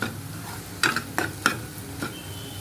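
A paneer dosa cooks on a hot pan, giving a steady soft sizzle broken by four or five short scraping strokes, close and clear with no voices.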